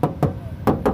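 Knuckles rap on the left door panel of a 2012 Isuzu Panther LV 2.5 Turbo, giving four hollow, tinny knocks in two quick pairs, close and loud, with no talking.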